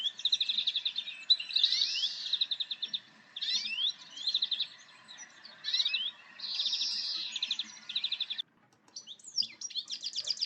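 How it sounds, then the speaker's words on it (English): A greenfinch singing close and clear, with rapid twittering trills repeated in bursts and drawn-out wheezy buzzing notes in between, against an otherwise quiet background. "The chunky green finch has a distinctive wheezing call, but also a lovely twittering song that they will often sing in flight."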